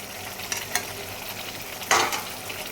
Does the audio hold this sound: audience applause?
no